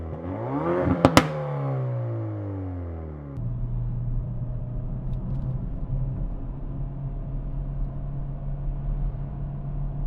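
A Hyundai i30 Fastback N climbs through the revs with a rising exhaust note, then settles into a lower, steady drone as it cruises.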